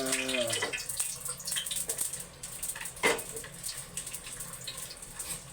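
Water pours into a hot pan greased with used oil while cooking corned beef with eggs, giving a soft, continuous splashing hiss that stays faint throughout.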